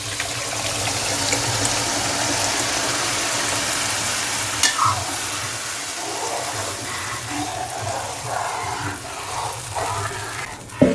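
Mango kasundi mixture being stirred and poured into hot mustard oil, a steady sizzling hiss with scraping and liquid splashes running throughout, a few sharper clinks near the end, with no talking.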